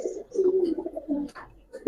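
Old-breed Chittagong green-necked pigeon cooing close by in a series of low, throaty, rolling coos across the whole stretch, with a brief higher sound near the middle.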